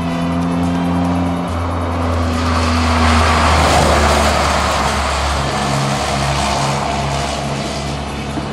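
A student-built race car from team EPSA of École Centrale de Lyon, competing at the Trophée SIA 2011, revs loudly and sweeps past close by, its engine tone shifting as it passes, then continues droning.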